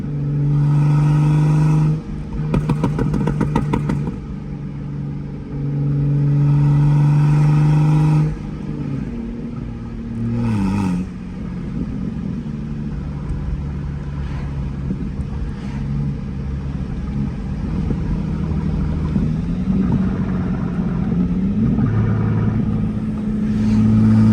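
Big-turbo BMW 535i driven at night, engine revving hard with a loud turbo spool: deep, sustained rumble with rising and falling revs and bursts of acceleration, close and loud throughout, no talk.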